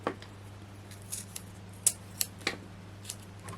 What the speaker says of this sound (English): it's just another little piece of pearl. Just cut that out roughly.